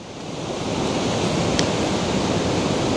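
Heavy surf rolling hard over a sandbank at sea off Blackpool's Gynn wall, a steady, loud, broad roar of breaking waves that swells in the first half-second and then holds continuously, with wind buffeting the microphone.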